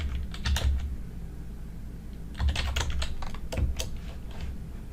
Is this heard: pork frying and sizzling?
no